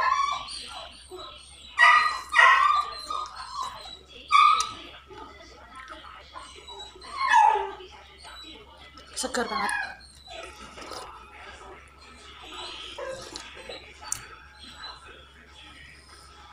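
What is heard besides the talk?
dog barking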